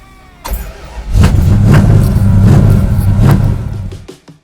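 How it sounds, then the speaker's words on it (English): A car engine fires up and revs hard in a show intro for a restoration shop working out of a refurbished barn, a loud throaty burst that holds for a few seconds and then cuts off. "Gentlemen, start your engines."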